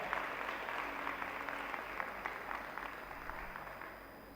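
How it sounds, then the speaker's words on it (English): Steady audience applause at a live seminar session, a dense patter of many hands clapping continuously for several seconds and slowly tapering toward the end. "Please, can you give him a round of applause?"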